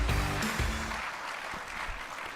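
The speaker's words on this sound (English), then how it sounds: "Once again, a big round of applause for Anup Kumar." An audience in an auditorium applauds, a broad wash of clapping that fades gradually, with a brief tonal note at the start.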